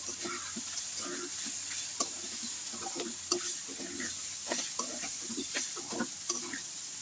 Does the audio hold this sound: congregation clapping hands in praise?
no